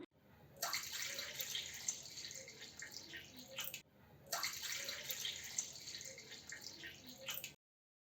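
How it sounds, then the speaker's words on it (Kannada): Water poured from a cup onto idli rava in a bowl: two splashing pours of about three seconds each, close and fairly quiet, with no voices. "ಒಂದು ಕಪ್ಪು ನೀರು ಹಾಕೋತಾ ಇದ್ದೀನಿ"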